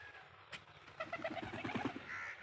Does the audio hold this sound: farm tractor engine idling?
no